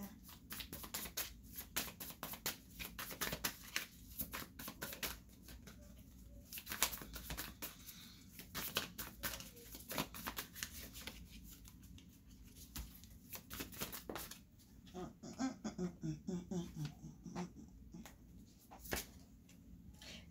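Tarot cards are shuffled close up during a July tarot reading, a long run of quick riffling, flicking bursts and soft papery patter that repeat irregularly, with brief pauses between bouts and no voices.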